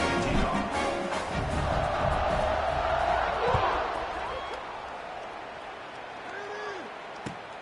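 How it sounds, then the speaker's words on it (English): A football stadium crowd buzzes after a score in a KSU vs UTEP game, a broad, distant roar that swells early and then gradually fades, with a commentator talking over it. "this crowd is buzzing after that last score"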